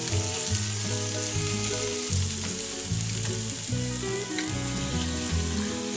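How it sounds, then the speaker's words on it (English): Spam sizzles in a skillet under a sweet glaze spooned on top, a steady, dense frying hiss heard up close, with a faint tonal hum of the kitchen underneath and no talking. "put it right on top of the Spam while it's cooking in the skillet"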